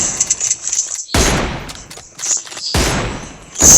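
Gunfire in a shooting video game: several loud, close bursts of shots separated by short pauses, each a sharp crack trailing into a brief rumble, with no talking.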